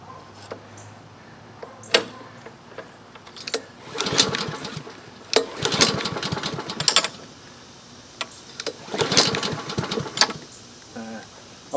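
A small Honda engine is brought to life in a workshop with several short, choppy bursts of engine noise separated by quieter gaps, heard close up.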